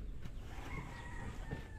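A bird calls outdoors in a garden full of plants, giving a few faint, thin tonal notes over steady background noise.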